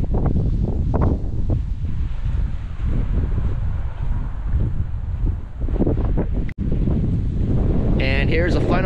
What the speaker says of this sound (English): it is a cold, windy day today